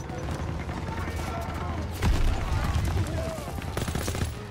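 MG42 machine gun fire in the Call of Duty WW2 campaign, a dense, continuous battlefield din of automatic gunfire and explosions with a louder burst midway.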